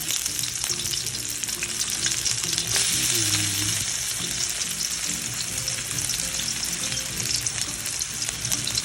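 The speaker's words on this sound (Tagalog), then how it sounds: "Nagisa na yung ating garlic and onion" Garlic and onion sautéing in a pan, a loud continuous sizzle with intermittent stirring scrapes, close and unbroken, with no one talking.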